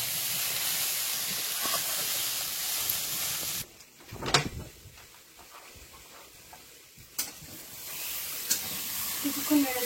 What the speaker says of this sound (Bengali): কিছুক্ষণ নেড়ে চেড়ে ভেজে নিলাম